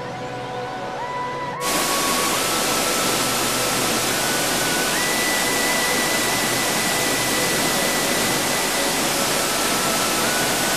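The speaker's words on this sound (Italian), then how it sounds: "C'è la cascata della Buragna che viene dalla Monte di Pietra Corniale, Rocca Tagliata." Buragna waterfall, fed from Monte di Pietra Corniale near Pesco Sansonesco, roaring as loud, steady broadband rushing water close by, preceded by a quieter moment with faint tones before the full roar starts.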